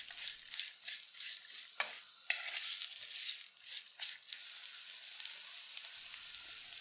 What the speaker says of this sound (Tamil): சின்ன வெங்காயம் நல்லா சாஃப்டாக ஆகிற வரைக்கும் ஒரு 5 நிமிஷம் வணக்கிக்கோங்க